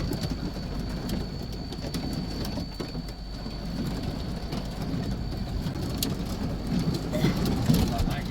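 Small hail falling hard outside makes a dense, steady patter and rattle that swells slightly toward the end, with a low rumble running beneath it.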